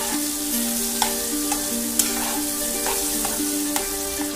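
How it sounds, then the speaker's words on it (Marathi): Banana slices sautéing in ghee give a soft, continuous sizzle close by, with occasional light stirring clicks and scrapes of a utensil against the pan; no voices. "केळीचे काप आहेत ते तुपामध्येच परतून घ्या"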